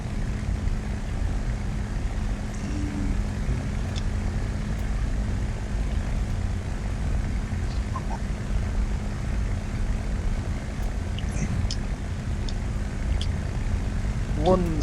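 The propeller engine of a Hawker Hurricane Mk I in a flight game drones steadily and loudly throughout, a constant low rumble with no breaks.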